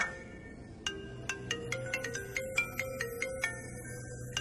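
A mobile phone rings with a series of short electronic chime tones, repeating in a quick irregular rhythm over a low room hum, fairly close and moderately loud, with no talking.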